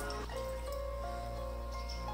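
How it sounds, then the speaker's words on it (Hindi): Water from a glass poured into a kadhai holding about half a kilo of raw mutton liver, a steady close splashing fill that runs alone for a couple of seconds. "इसके अंदर मैं 1 गिलास के जितना पानी डाल दूंगी"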